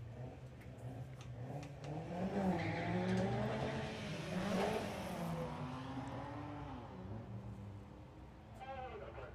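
A Toyota and a Ford Escort Mark II race cars launch side by side at a drag sprint event, engines rising and shifting at moderate distance, with a commentator talking over the noise.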